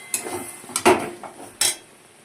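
A lid set down on a pan while fish cooks, giving a few short metallic clinks and knocks close by, with no voice over them.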